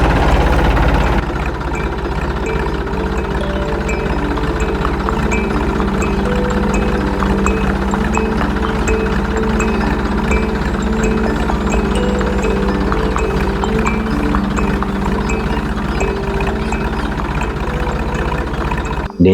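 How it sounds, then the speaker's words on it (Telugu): A tractor engine drives through uneven, bumpy orchard ground, giving a steady, loud mechanical drone with a constant low hum that holds throughout, and no talking. "ఎక్కడానికి కూడా బాగా కష్టమైన ట్రాక్టర్ మాత్రమే డ్రైవ్ చేస్తారు"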